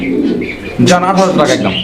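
Fancy pigeons at a bird sale give a short throaty coo close by, with someone talking over a background of other bird calls.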